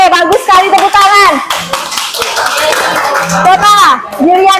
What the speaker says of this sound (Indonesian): Oke, bagus sekali, tepuk tangan.